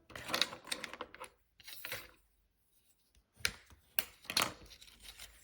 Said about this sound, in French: Vous repliez en deux votre papier.